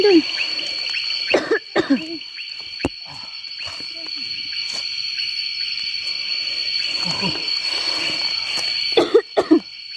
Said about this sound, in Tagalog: Inuubo pa naman ako.